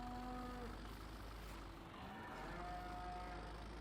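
Cows moo in the Farming Simulator video game, several drawn-out calls over a constant low engine-like hum, moderately loud and steady with no voices.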